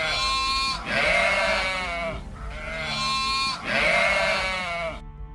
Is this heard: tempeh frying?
no